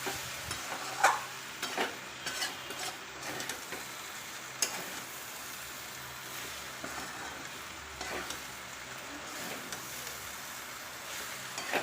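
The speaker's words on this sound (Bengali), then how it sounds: "দেখো আমার কষানো হচ্ছে, কষানোটা প্রায় হয়ে এসেছে।" Jackfruit and potato pieces sautéing in a spiced masala with oil, giving a steady close sizzle and frying crackle under occasional stirring scrapes and light clinks, with no talk throughout.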